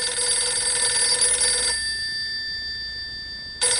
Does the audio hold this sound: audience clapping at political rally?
no